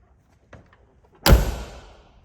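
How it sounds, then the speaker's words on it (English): A single solid slam as the door of a 1991 Porsche 944 S2 shuts, one close, heavy thud with a short ringing tail, preceded by a faint click of the latch handle. "Door shut beautifully."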